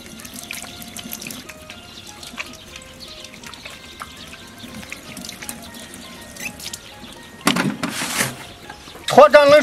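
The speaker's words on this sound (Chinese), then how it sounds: "削干净的脱掌再洗一下" Tap water runs over trimmed camel hooves with their furred skin pared away. It starts as a steady trickle and breaks into louder splashing bursts near the end, while a voice speaks.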